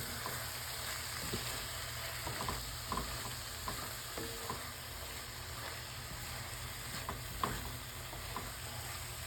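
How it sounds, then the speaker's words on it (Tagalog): Bitter gourd (ampalaya) and egg sizzle steadily in a pan, with soft scraping and stirring clicks from a utensil, fairly quiet and close. "halo-haluin natin ang ating ampalaya"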